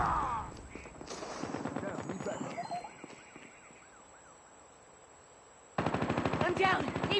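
Rapid bursts of automatic gunfire from a Call of Duty Mobile match, loud and close, with electronic warbling tones between volleys and a heavy burst returning at the end; no speech in the clip.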